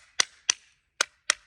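A handgun is struck four times at a range to mimic being dropped, giving sharp, loud, isolated knocks in two pairs with short gaps between them.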